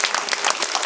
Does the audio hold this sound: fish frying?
no